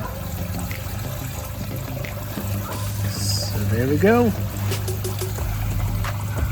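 Water spilling over a homemade garden waterfall spillway into a pond, a steady close trickle and splash running throughout, while someone speaks briefly over it.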